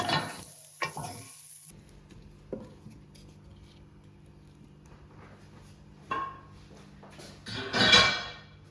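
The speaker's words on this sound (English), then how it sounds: "The sound of squealing potatoes." Potatoes frying in a pan for a breakfast bagel bowl give a faint, low sizzle, broken by a few short scraping stirs and a louder clatter near the end.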